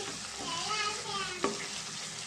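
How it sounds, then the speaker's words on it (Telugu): Onions frying in a pan for chicken curry, a quiet steady sizzle with faint stirring scrapes and a single sharp clink of a utensil partway through. "ఉల్లిపాయ అయితే ఫ్రై అయిందండి ఇంకా టూ సెకండ్స్ ఫ్రై చేసుకున్నాం"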